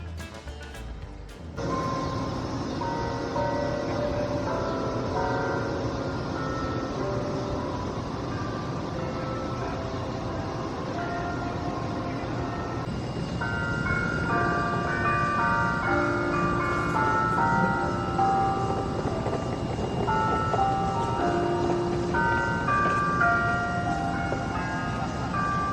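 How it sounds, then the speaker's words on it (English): A campus bell tower carillon at Purdue University in West Lafayette plays a song outdoors, a steady ringing melody of layered bell tones sustained throughout with no talking. "The bell tower plays songs for about 15 minutes, starting at 5 o'clock."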